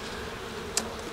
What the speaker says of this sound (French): C'est un résidu d'essaim, donc des abeilles qui... Un essaim qui avait déjà été récupéré